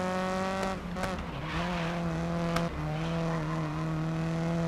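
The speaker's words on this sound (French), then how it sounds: "J'aime bien le son de la voiture." A race car engine in the GRID Legends racing game drones with a strong harmonic whine, pitch dipping and rising briefly as gears shift, loud and continuous with faint tyre noise.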